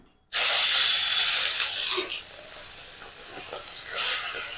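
Bata fish rubbed with salt and turmeric drops into hot mustard oil and bursts into a loud, bright sizzle that settles into a steady frying hiss, with a fresh spatter flaring up near the end.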